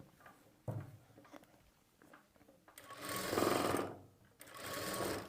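A sewing machine stitches piping cloth onto a plain blouse in two loud sustained runs of whirring motor and needle, with quieter handling and clicks in between.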